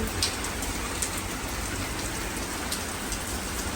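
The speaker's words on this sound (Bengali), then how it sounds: "যখন দেখলাম যে প্রচুর বৃষ্টি হচ্ছে" Heavy rain at night in London, a dense, steady hiss of rainfall with occasional sharper drips, heard close and continuous without voices.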